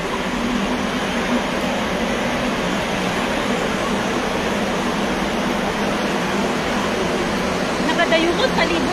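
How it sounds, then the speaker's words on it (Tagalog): Steady broadband whoosh of air conditioning fills the space atop the Marina Bay Sands shopping mall in Singapore, a constant loud hiss with no breaks. "Ayan, may ingay yung aircon."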